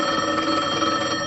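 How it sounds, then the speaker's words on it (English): An old telephone bell rings continuously in a dense metallic trill, loud and close, alone without voices. "Phone."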